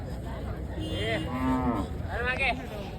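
A bull at a bullock cart race ground gives a loud, close moo of about three seconds, rising and falling in two drawn-out calls over a steady outdoor murmur.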